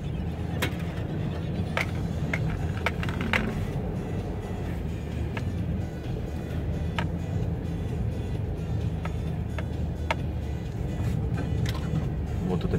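Off-road SUVs grind up a steep snowy hill in winter, their engines droning steadily at mid-distance with occasional clicks and knocks over the continuous rumble.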